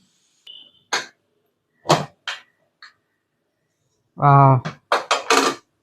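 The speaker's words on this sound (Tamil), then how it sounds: "அப்புறமா குக்கரில் பருப்பும் நல்லா வெந்துருச்சு. நம்ம ஓப்பன் பண்ணிடலாம்" A pressure cooker of cooked lentils is opened with a few sharp metallic clinks and clatters of the lid, separated by short pauses, plus a brief louder voice-like burst.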